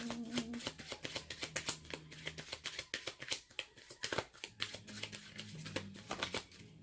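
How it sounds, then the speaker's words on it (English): A deck of cards is shuffled by hand at close range, producing a quick, continuous run of crisp flicks and soft slaps with no talking. "I have my eyes closed when I shuffle, so I was just relying on hearing the card flip"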